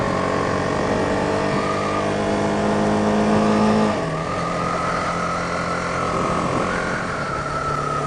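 A 2018 BMW G310R motorcycle engine on a test ride, a loud, steady drone with a tonal hum that drops as the revs shift midway, then holds at a lower pitch.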